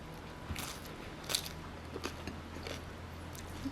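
Crisp, close crunches come from someone biting into and chewing a Cool Ranch taco shell, with several separate crackling bites over a quiet background.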